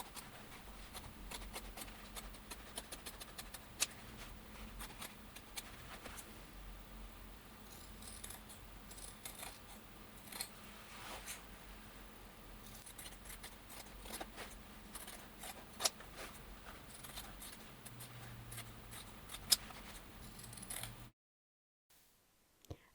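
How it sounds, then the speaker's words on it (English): Scissors trim and grade the fabric seam allowances on a dress collar with many small, crisp snips close by, quiet and steady, then a short silence at the end. "It's best to grade. That is trimming at different widths."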